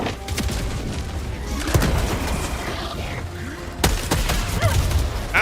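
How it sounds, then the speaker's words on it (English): Grenade blast and rapid gunfire in the sci-fi shooter game Andromeda, a dense barrage of booms, cracks and sharp impacts with a loud burst near the end, continuous and chaotic throughout. "Throwing grenade."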